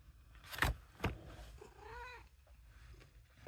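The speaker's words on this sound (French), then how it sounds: "Excusez-moi, il y a mon chat qui fait des siennes." A house cat is heard nearby: a couple of sharp knocks, then one clear, rising-and-falling meow, with quiet room noise around it.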